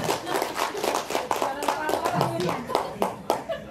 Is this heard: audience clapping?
yes